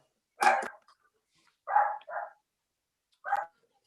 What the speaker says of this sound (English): I heard the dog barking.